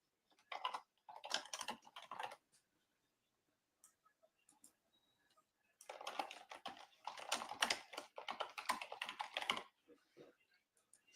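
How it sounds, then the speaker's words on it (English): Rapid keyboard typing in bursts of clicky keystrokes, close to the microphone, with a long quiet gap in the middle before a second, denser stretch of typing during a live trading broadcast. "if you hear the typing here, please just disregard it"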